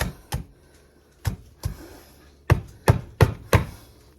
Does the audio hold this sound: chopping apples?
yes